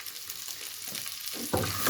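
Egg and vegetable noodles fry in olive oil in a pan, a steady close sizzle with crackle that swells louder near the end as the food is stirred or added.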